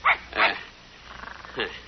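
A small dog gives a few sharp yaps close by, two quick barks and then another after a pause, with no talking over them.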